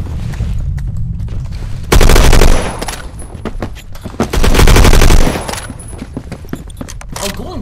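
FAL rifle gunfire in the Phantom Forces shooter game, two loud rapid bursts of shots separated by quieter gameplay sounds, with a voice talking underneath.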